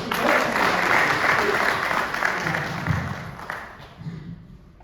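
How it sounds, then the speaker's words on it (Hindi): Audience at a Hindi poetry gathering (kavi sammelan) in Abu Dhabi giving a round of applause, full and close at first, then thinning and fading away toward the end. "निशा जी के लिए पर जोरदार ताली होनी चाहिए"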